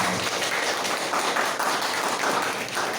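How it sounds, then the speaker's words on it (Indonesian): Students in a classroom applaud at the end of a four-hour lesson, giving a steady, dense patter of many hands clapping for about three seconds without a break. "tepuk tangan untuk kalian semua"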